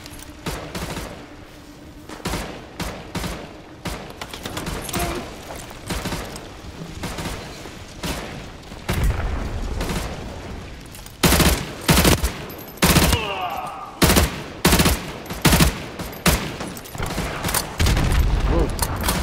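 Heavy gunfire and booming blasts in the video game Modern Warfare 2 Remastered, including an RPG launch, with dense automatic fire and sharp repeated bangs building louder toward the end, loud and close, with voices beneath.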